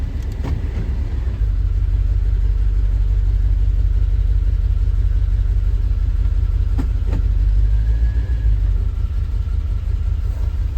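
A 1991 Chevy Silverado V8 pickup idles steadily after a tune-up, a deep continuous low rumble close by, with a brief rev near the start and a faint click or two, no talking.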